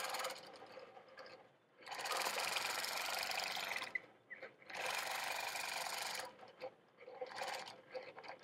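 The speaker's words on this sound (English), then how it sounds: "Invisible is great for ditch work" A sewing machine quilts with invisible thread, running in three long, loud, steady bursts of a few seconds each, separated by short pauses and small clicks.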